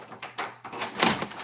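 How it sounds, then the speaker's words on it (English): A door being unlocked: a few close clicks and rattles of the lock and handle in quick succession, ending in a brighter metallic clack. "I'm trying to unlock the door."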